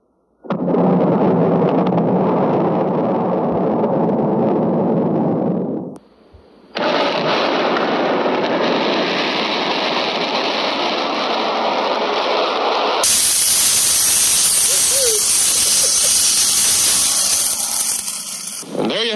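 A fire set by a flare gun shot burns with a loud, continuous roaring hiss. The sound breaks off briefly partway through and then returns even harsher and brighter.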